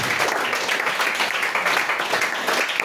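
A church congregation at a worship service applauding and cheering for Jesus, a steady dense wash of clapping with raised voices that holds loud and even for the whole short stretch.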